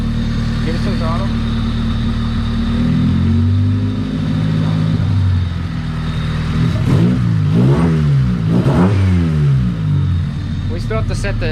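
A Honda Civic EF hatchback engine idling up close, then revved repeatedly with throttle blips that rise and fall in several quick swells over the steady running engine.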